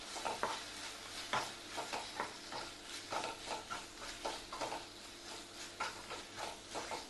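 A spoon stirs asafoetida and salt around a hot pan in a kitchen, giving repeated scraping strokes in a steady rhythm over a faint sizzle, close and quiet with no talking.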